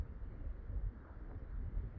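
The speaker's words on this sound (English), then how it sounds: "Windy, snowing." Wind on a snowy night at a campsite on an island rumbles low and steady against the microphone, a faint continuous buffeting with no voices.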